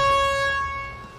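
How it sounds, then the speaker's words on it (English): A video game air horn gives one brief, loud, bright tonal blast that fades away within about a second. "least the air horns work."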